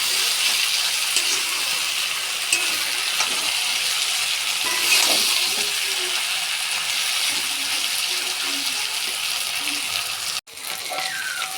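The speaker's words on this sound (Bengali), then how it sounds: "পেঁয়াজটাকে নেড়ে করে ভেজে নেব। দেখুন এইভাবে নেড়ে করে ভেজে নেব।" Onions stir-fry in a pan with a continuous loud sizzle and frequent scraping stirs, close up, cutting out briefly near the end.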